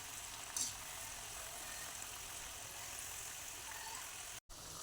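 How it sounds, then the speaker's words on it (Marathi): Steady, quiet sizzle of colocasia leaf vadi (alu vadi) shallow-frying in hot oil, a continuous soft crackle with no talking. "छान अशा तांबूस कलरवर वड्या तळून घ्यायच्या"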